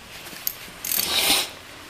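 A 10 mm wrench works on a wheelchair battery terminal, giving a soft tap followed by a brief run of close metallic ratcheting clicks. No one speaks.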